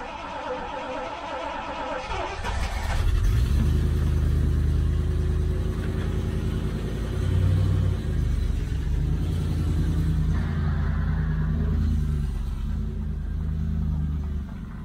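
A Triumph Stag car engine cranks briefly and then fires, settling into a loud, close, rumbling idle with uneven surges in revs that carries on steadily without speech.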